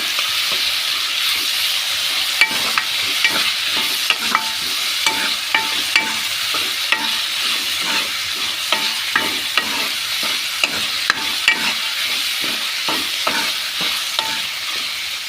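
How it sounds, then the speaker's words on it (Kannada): Tomatoes sauté in a pan for a drumstick-leaf (nugge soppu) dal, giving a steady close sizzle broken by frequent scraping and clacking stirs at an even pace throughout, with no voices. "ನಂತರ ಟೊಮೊಟೊ, ಇದಿಷ್ಟು ಸ್ವಲ್ಪ ಹೊತ್ತು ಬಾಡಿಸ್ಕೊಳ್ಳಿ."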